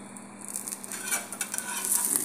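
Chapati cooks in a pan while being brushed with cooking oil, giving a soft, close sizzle with light scraping and patting strokes, quiet and continuous.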